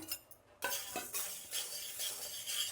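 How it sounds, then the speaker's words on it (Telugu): Urad dal and chana dal being dry roasted in a pan without oil, with scraping and stirring against the metal and a soft rustle of lentils, close and moderately quiet. "ఇప్పుడు ఉద్దిపప్పు, పచ్చినిపప్పు కూడా వేయించుకుందాం."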